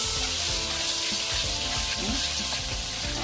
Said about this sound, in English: we'll stir fry it in this butter sauce